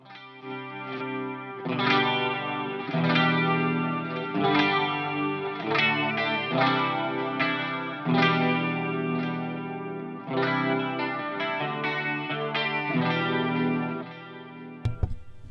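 Electric guitar through an amp modeler with a processed, chorus-and-distortion-colored tone plays a series of strummed chords and riffs, sustained and fairly loud, with no talking.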